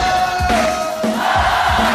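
Theater audience at the Apollo shouting "oh" together in response to a performer, a loud sustained crowd chant repeated in pulses.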